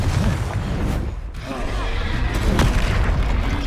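Confringo blasting spell going off in the video game Hogwarts Legacy, a loud booming explosion rolling through the clip over dense game sound and music, with a voice calling out.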